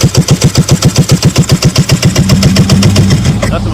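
A 50cc GY6 139QMB scooter engine with a fault chugs in rapid, loud, even pulses, then its tone shifts to a rougher, faster revving as the throttle opens.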